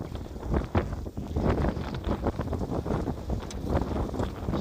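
Wind gusts across the microphone on a ranch hike near rock formations, a loud, uneven low rumble and buffeting that swells and dips throughout with no speech.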